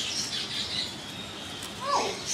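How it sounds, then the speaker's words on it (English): Birds at a bird park in Kuala Lumpur call during feeding time, with a steady din of high chirps across the clip and a louder nearby squawk near the end. "Feeding time at the bird park."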